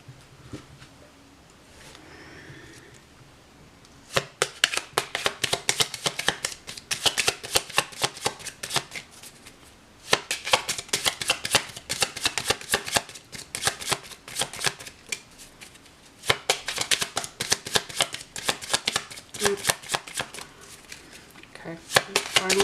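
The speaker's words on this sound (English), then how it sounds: "Okay, final shuffle." Tarot cards are riffled and shuffled in quick crackling bursts, several rounds separated by short pauses, close up and fairly loud, with someone talking at times.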